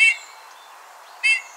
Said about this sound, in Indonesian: Bullfinch. Burung bullfinch.